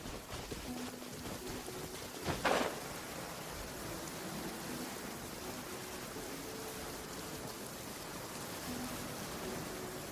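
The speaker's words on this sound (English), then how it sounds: "The rain won't slow me down." Steady rainfall hisses evenly in the video game Genshin Impact, a soft continuous wash broken by one brief sharp burst early on, with faint tonal game sounds underneath.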